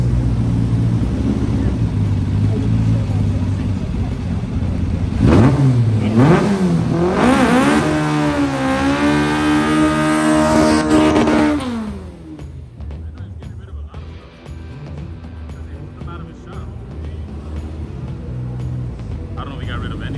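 Volkswagen cars at a drag strip: a loud, close engine roars and revs with rising pitch sweeps as a car launches, then fades to a quieter distant rumble.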